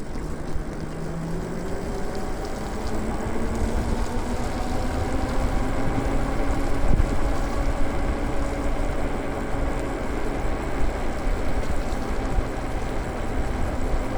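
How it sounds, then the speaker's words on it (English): Tires on a Lyric Graffiti e-bike hum with a steady broadband road roar while riding, continuous and fairly loud, with rising and falling whine tones and no talking. "This one's definitely a smooth bike, and it's quiet. The only thing, I hear the noise on these tires though"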